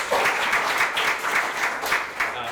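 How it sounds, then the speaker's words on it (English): Audience applause for the graduating class of 2024 at a Mini MBA graduation ceremony, a steady dense burst of many hands clapping together that fills the whole moment without letting up. "let's give one more big round of applause for the class of"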